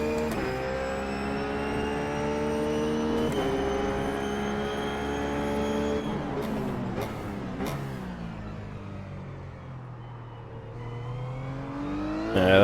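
A race car in iRacing, a Blancpain Sprint Series GT machine, holds a loud, steady engine drone in third gear, then its pitch dips and climbs again as it shifts and accelerates, with no talk.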